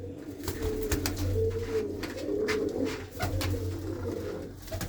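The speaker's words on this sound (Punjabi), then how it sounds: "ਕਬੂਤਰ ਬੜੇ ਬੜੇ ਸੋਹਣੇ ਆ" Pigeons coo repeatedly in a loft where fancy pigeons are kept, soft low throaty calls overlapping close by, with scattered flutters and small knocks around them.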